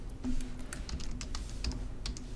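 Fingers type a table title on a computer keyboard, a quick, close, irregular patter of light key clicks with short pauses between bursts.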